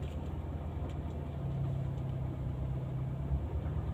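Vehicle engine rumbling steadily, close and continuous, as wheels turn on a muddy, rutted road.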